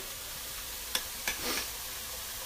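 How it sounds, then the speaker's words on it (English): Garlic hits a hot pot for a faint, soft sizzle, with a couple of sharp clicks and a brief hiss as it lands and is stirred. "So this is the garlic. I'm going to throw this in."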